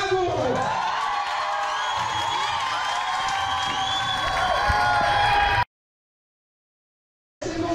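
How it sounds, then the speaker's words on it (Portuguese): A comedy show audience cheers, whoops and claps loudly for a comedian, the crowd noise holding steady before cutting off abruptly to silence, then briefly returning. "Muitas palmas a ele"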